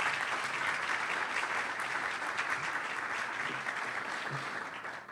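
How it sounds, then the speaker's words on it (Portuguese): An audience claps steadily for several seconds at the launch event of a health technology publication, a dense even applause that fades slightly at the end, with no speech over it. "Uma salva de palmas, por gentileza."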